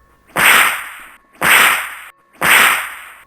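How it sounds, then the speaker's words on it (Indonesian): A fire-tipped whip cracks three times in a slow, even rhythm, each snap loud and close with a brief hissing tail, and nobody speaks. "suara cambukan berulang-ulang di sekitarnya"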